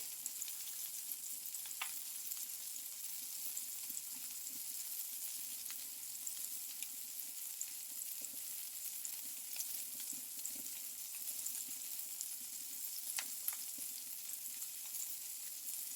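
A burger patty frying over a stove flame, a faint, continuous sizzle with scattered small crackles and pops, steady and close, no talking.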